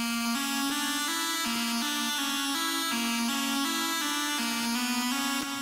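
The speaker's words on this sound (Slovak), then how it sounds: "to je lead, ktorý znie nejako takto" A synth lead plays a melody in an electronic track, with bright sustained notes that step through the tune at a steady pace over a dense, continuous backing. The sound is loud and unbroken for several seconds, with no talk.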